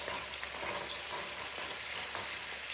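Carrots and turnips frying in a hot pan, a steady faint sizzle with soft stirring and folding sounds, no voices.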